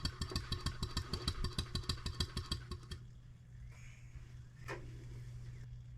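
A Stuart 7A steam engine runs on compressed air with rapid, even puffing exhaust beats for about three seconds, then stops, leaving a low steady hum and faint background noise.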